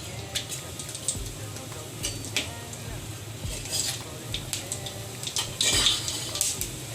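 Tempering spices crackle and sizzle in hot cooking oil in a kadai, a steady busy frying hiss with scattered pops and stirring, fairly close.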